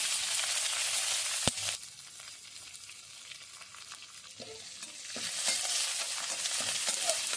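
Cumin, curry leaves and green chilies sizzle in hot oil in a pan, a bright, hissing crackle that dips briefly when stirred, with a sharp tap and scraping, then swells again; close and loud, no speech.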